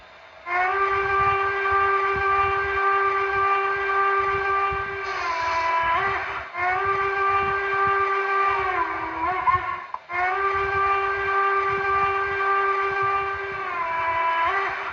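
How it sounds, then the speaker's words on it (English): Whistle of a Broadway Limited GS4 Paragon 2 HO scale model locomotive in Southern Pacific livery, sounding three long, steady chime blasts in a row with brief gaps between them, loud and close, with no talk. "let's try the other whistle"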